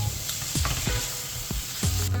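Sliced onions stir-frying in a pan with soy sauce, chili flakes, gochujang and sugar: a soft continuous sizzle broken by several scraping stirs of a utensil, close and alone.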